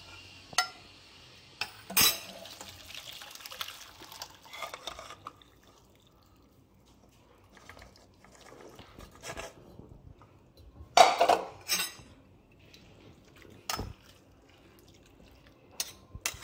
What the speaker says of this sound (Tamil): நல்லா இதை அப்படியே நசுக்கி விட்டுட்டு இதை வந்து நம்ம வடிகட்டிடலாம்.